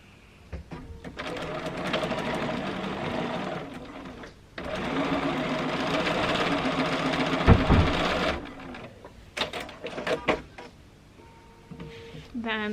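A Bernina sewing machine stitches quilt strips in two long runs of fast, even needle chatter with motor whir, near and loud, separated by pauses with handling clicks and rustles.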